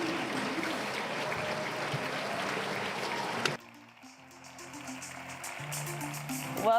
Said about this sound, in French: Applaudissez un peu plus fort, s'il vous plaît.